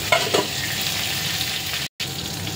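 Fish fillets frying in hot oil in a pan, a steady close sizzle with a few louder spits early on and a brief dropout near the end.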